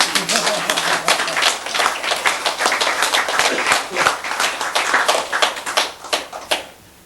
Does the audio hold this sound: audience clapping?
yes